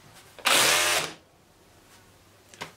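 A Bosch UniversalHammer 18 V cordless rotary hammer runs with hammer mode engaged, giving a short, loud, close burst of about half a second of harsh mechanical buzzing that then cuts off, followed by quiet.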